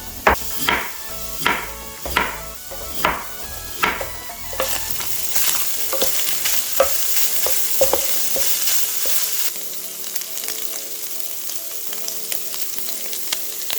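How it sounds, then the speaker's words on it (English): Sausage fries in a pan with a steady sizzle, and a series of sharp scraping stirs and taps sounds near at hand during the first few seconds. A continuous frying hiss carries on alone for the rest of the stretch. "sausage is cooking"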